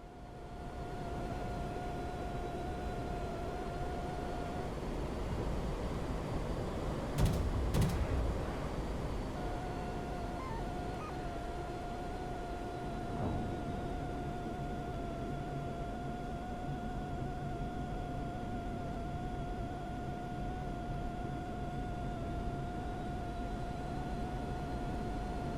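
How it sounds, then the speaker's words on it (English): Engine roar of an old jet in a flight combat video game, a steady loud rush that continues throughout, with a whining tone that drops away and returns as the throttle is worked. "You can hear that I'm constantly working the throttles, throttling down to avoid overshooting"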